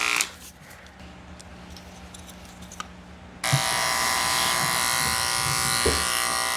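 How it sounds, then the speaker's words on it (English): An electric dog grooming clipper used on a Shih Tzu switches on partway through with a sudden loud, steady buzzing hum, running close and rattly after a quiet stretch of faint handling noises. "My clipper's making a lot of noise"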